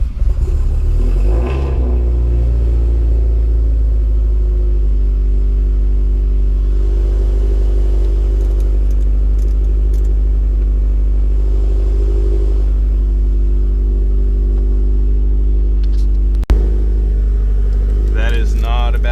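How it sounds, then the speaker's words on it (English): A Subaru STI fitted with 2000 cc injectors idles after a cold start, a loud, close, steady low rumble that holds evenly throughout, broken by one sharp click near the end. "That is not a bad idle for a cold start with 2000 cc injectors."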